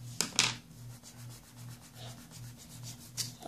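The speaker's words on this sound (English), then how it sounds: "I'm gonna make erase marks. Rub in. It's getting a little lighter." A pencil drawing on paper is rubbed in and erased with soft scratchy strokes, close and quiet over a low steady hum, with a couple of sharper rubs near the start.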